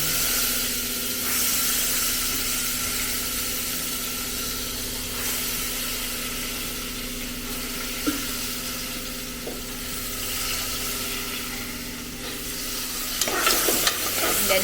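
Dal with turmeric and chili powder hisses and sizzles steadily in a hot pan while being stirred, a continuous loud frying rush with a few scrapes and clatters near the end.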